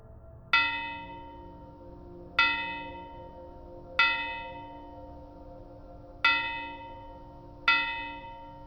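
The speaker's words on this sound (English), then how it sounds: "I hear the grave bell ring again." A graveyard bell rings five single clear strikes spaced about two seconds apart, each ringing out and fading slowly, moderately loud in a quiet setting.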